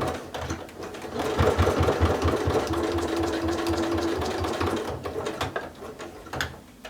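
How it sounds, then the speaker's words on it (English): A sewing machine stitches a denim strap a quarter inch from the edge, running steadily and close for the whole stretch with a fast mechanical patter and a brief back tack, no voices present. "we're going to sew at 1/4 inch from the edge of the strap"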